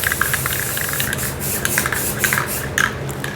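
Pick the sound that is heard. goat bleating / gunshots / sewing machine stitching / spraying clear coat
spraying clear coat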